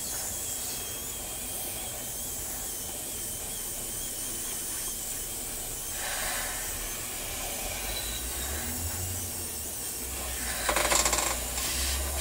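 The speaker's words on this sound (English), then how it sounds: "I'm just going to use this paint up that's in the airbrush now." An airbrush hisses steadily as paint is sprayed onto a 1/16 scale Tiger I model tank, a soft continuous close-up spray with a slight surge near the end.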